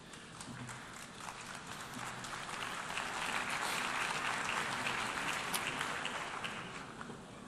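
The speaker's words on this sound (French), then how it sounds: "Je vous remercie pour vos applaudissements" Sustained applause from an audience after a speech on development aid, a dense wash of many clapping hands that swells in the middle and eases slightly toward the end, with no voices over it.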